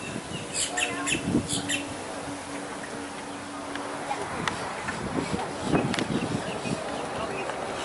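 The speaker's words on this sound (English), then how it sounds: "Man, that bird is big." Birds calling at the Everglades Safari Park, with brief chirps scattered over steady outdoor noise and wind, partly masked by people talking nearby throughout.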